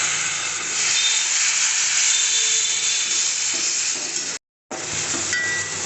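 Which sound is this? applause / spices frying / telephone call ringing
spices frying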